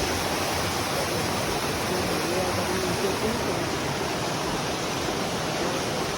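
A waterfall roars in a continuous, loud, dense wash of falling water that stays steady and unbroken throughout, close by with no voices.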